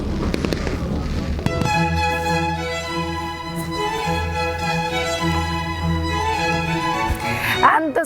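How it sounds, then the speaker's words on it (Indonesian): A New Year's Eve fireworks display at GWK in Bali, a sharp bang followed by a loud, sustained tonal roar with ringing harmonic layers and further crackles and pops near the end, close and intense. "Pesta kembang api di GWK berlangsung selama kurang lebih 5 menit"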